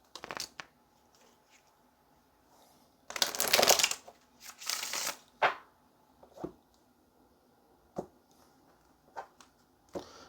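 Brisk papery riffling of tarot cards in two bursts, with softer taps and flicks scattered around them, close and fairly quiet.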